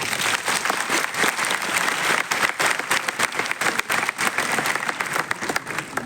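Crowd in an auditorium breaking into full applause, thick continuous clapping from many hands that holds steady for several seconds without talk.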